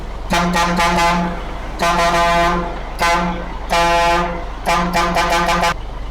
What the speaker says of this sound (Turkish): Birebir orijinal kornası.